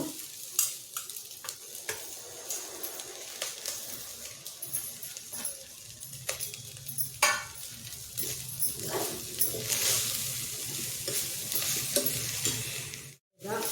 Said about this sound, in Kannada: ಒಂದು ಸುತ್ತು ಹುರಿದಿದ್ದಾಯಿತು ಮೆಂತ್ಯ ಸೊಪ್ಪನ್ನು